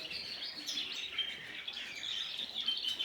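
Colour canaries in an indoor bird room chirp and twitter steadily, a dense bright chorus of many small birds close by, with no voices.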